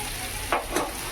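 Mango chutney frying in a pan, a steady close sizzle broken by two quick scraping stirs of a spoon.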